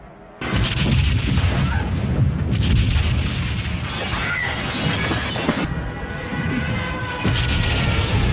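Bombing in a war scene from the film Underground: a dense, loud barrage of booming blasts, rumbling and crashing, shattering debris that runs almost without pause, with no voices heard.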